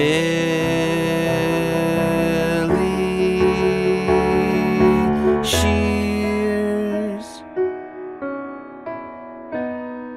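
Piano intro to a song, with full, sustained chords that give way to sparser single notes, ringing out and fading near the end.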